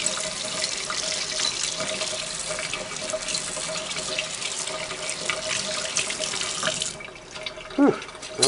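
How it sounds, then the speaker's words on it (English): Running tap water splashes steadily over Singer 403A sewing machine parts, a continuous close hiss that breaks off briefly near the end with a few clinks. "spray those again, and then we'll give them a good rinsing."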